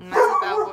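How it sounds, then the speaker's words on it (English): A pet dog barks a few times nearby in a home, with someone talking over the barks. "And that's my dog barking"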